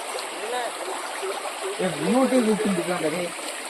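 Steady rush of a flowing stream at Vaidehi Falls near Kovai Kutralam, with a person talking loudly over the water noise.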